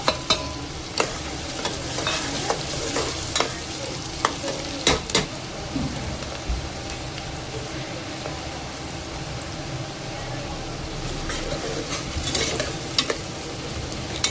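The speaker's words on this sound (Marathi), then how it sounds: "कांद्याला छान सोनेरी रंग येऊस्तोवर फ्राय करून घ्यायचे तेलामध्ये." Chopped onions fry in hot oil inside a pressure cooker, giving a steady soft sizzle broken by repeated scrapes and clinks of a stirring spoon, close by and with no talking.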